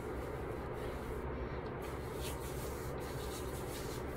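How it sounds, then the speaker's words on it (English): Soft, continuous rubbing of black soap cleanser over skin, a faint steady friction sound with no talking. "Rub that in all over our body."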